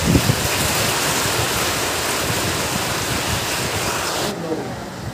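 Heavy rain pours down at night in Guna, a dense, steady roar of close downpour that runs almost unbroken before easing slightly near the end.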